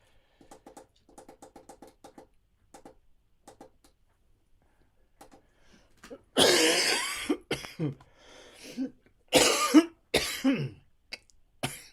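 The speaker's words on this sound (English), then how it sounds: "Still struggling with this bloody cough." A person with a persistent cough coughs several times in loud harsh bursts near the end, following soft rhythmic clicking in an otherwise quiet indoor room.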